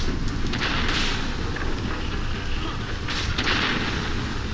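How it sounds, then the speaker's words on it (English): A loud, rumbling explosion in the video game Castlevania Legacy of Darkness roars through the whole stretch as dense low-end noise, with two sharper blasts flaring near the start and again about three seconds in. "Just fucking love the explosion."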